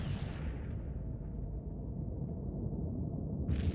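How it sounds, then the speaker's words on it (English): A space battle explosion in the game Infinite Lagrange, heard as a sustained low rumbling roar that fills the clip and swells again at the end, with no voices over it. "Oh, look at that explosion though."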